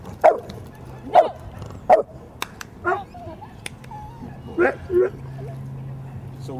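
A protection dog barks in sharp single woofs at irregular intervals during an obedience demonstration, loud and close, with a handler's voice between barks and a low steady hum beneath.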